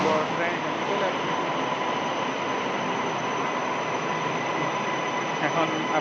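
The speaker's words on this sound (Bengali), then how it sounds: "অনেক বড় ট্রেন এখানে চলে আসছে।" An MRT metro train pulls into a station in Malaysia with a loud, steady rumble and airy hiss that fills the whole stretch, while someone talks over it.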